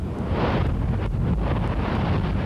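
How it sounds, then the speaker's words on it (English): Ocean surf pounds a shore where a perforated drainage pipe runs beneath the sand, a continuous broadband roar with rolling surges, loud and close, heavily buffeted by wind against the microphone. "the ocean? It just pounds and pounds"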